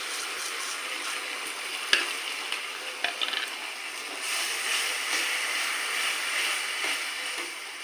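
Chopped onions and a prepared paste sizzle steadily in a hot pan, a continuous broadband hiss with a few sharp clicks of stirring near the two-to-three-second mark, growing slightly louder in the second half; no one talks.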